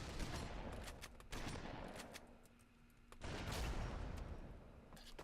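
Gunfire from a sniper rifle and a shotgun in the Halo 2 video game, with dense bursts of shots and blasts that come in loud clusters, ease off briefly in the middle, then swell again.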